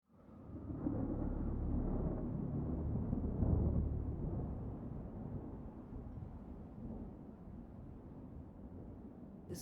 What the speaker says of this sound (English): The storm's picking up.